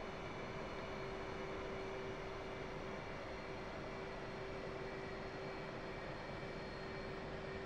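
An F/A-18 Hornet jet in the DCS flight simulator sits on the runway before takeoff, its engines giving a steady, unchanging drone with a sustained whine, faint and continuous throughout.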